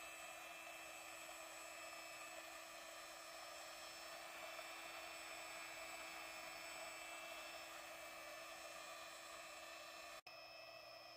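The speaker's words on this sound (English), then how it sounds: "You will audibly hear the pump start up." A small mold air sampling pump runs with a faint, steady high whine and hum, then cuts off abruptly near the end.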